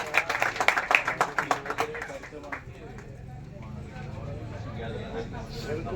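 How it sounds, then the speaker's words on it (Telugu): Audience applause at a church gathering in Eluru: a loud burst of rhythmic clapping for the first couple of seconds, then fading into a steady crowd murmur with voices. "గట్టిగా చప్పట్లు కొట్టండి."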